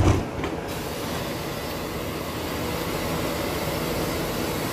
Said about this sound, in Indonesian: Sudah mau jalan keretanya.